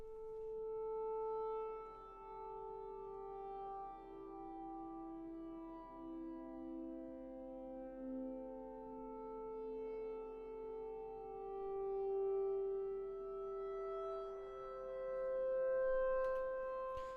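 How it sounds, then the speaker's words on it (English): An eerie ambient synth pad drenched in reverb slides slowly between long sustained tones that follow the bass notes, soft and alone throughout. "another kind of pad that follows the bass notes"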